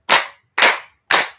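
A group claps in unison three times, sharp loud claps evenly spaced about half a second apart, each ringing briefly before silence.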